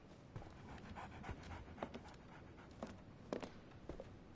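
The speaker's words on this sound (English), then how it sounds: "So, Barnes has a dog now." A dog in the Sherlock Holmes The Awakened game pants quietly in quick, rhythmic breaths, with faint soft shuffles and small clicks.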